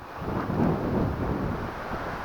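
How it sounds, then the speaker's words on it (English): Low rumbling buffets of wind hitting a microphone fitted with a furry windscreen, steady and muffled with a few stronger gusts, no voices, outdoors at Jervaulx Abbey. "This is getting windy."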